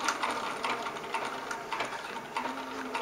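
A sewing machine stitches a first homemade dress, giving a steady, close mechanical whirr with rapid ticking needle strokes throughout, no voices over it.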